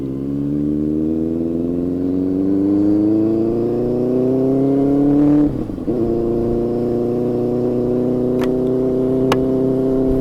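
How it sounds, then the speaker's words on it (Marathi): Loud, close engine drone of a Benelli motorcycle rising steadily in pitch as it accelerates, briefly dipping at a gear change before continuing. "आपल्या बाईकची पहिली राईड आहे ही।"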